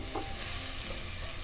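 Sweet yellow onion hits a pan of melted butter and olive oil, giving a steady close sizzle with faint stirring and scraping over a low background hum, no voices.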